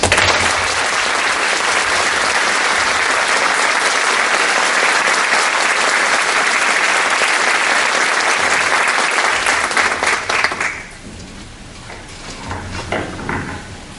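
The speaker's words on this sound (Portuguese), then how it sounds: "gostaria que nós o saudássemos com uma calorosa salva de palmas" Warm, loud applause from an audience at a Brazilian criminal law conference, a dense sustained roar of clapping for about ten seconds that then drops away sharply into quiet room sound with scattered faint noises.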